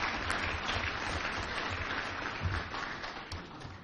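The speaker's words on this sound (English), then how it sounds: "Let's give Joe a round of applause, please." Steady, dense audience applause at an Indiana football hall of fame induction ceremony, continuous and moderately loud, sounding like a full room clapping together.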